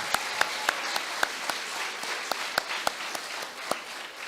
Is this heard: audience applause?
yes